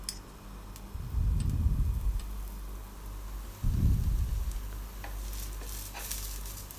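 Moong dal dosa batter with oil sizzling on a hot griddle, two separate swelling hisses of frying that rise and fade against a low steady background.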